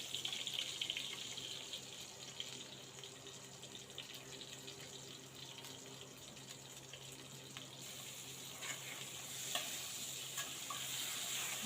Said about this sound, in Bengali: আমগুলো ঢেলে দিয়ে নাড়াচাড়া করছি।